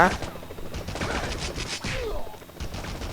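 Enemy gunfire in the video game Spider-Man 2000: a dense, steady barrage of rapid shots that keeps going the whole time amid busy game noise.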